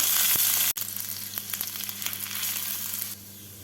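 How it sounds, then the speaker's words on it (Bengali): Two dry chillies and julienned ginger stirred in hot oil for honey chicken: a bright, loud sizzle at first, then a steadier crackle with light intermittent spatula scrapes, close up and without voices. "জুলিয়ান করে কাটা আদা তেলের মধ্যে নাড়াচাড়া করে নেব"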